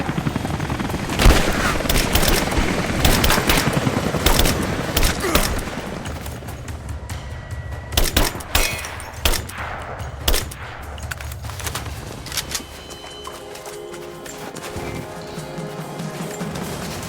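Rapid bursts of automatic gunfire and sharp single shots crackle through a Rise of the Tomb Raider combat scene, with booming impacts and crashes over a steady background rumble, loud and close.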